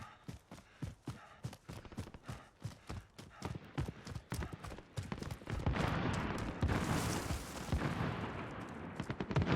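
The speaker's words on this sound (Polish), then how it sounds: "Tu słychać strzały dosyć intensywnie." Dense bursts of distant gunfire in Call of Duty: Warzone crackle and thump in rapid succession, growing into a sustained roar of overlapping shots and explosions toward the end.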